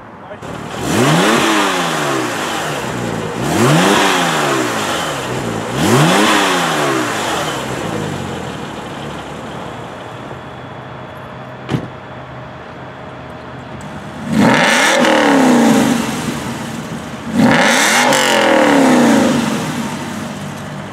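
A powerful car engine revs hard several times, each rise swelling and falling back, loud and close, with a short gap of quieter idling between bursts.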